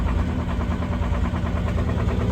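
A vehicle engine idles steadily and loudly close by right after a cold start on a ranch in bitter sub-zero cold, with a rough, even low rumble that holds without a break.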